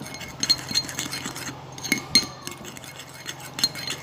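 A spoon stirs a charcoal face mask mixed with egg white in a bowl, making close, repeated bright clinks against the bowl's sides over a soft steady background hum.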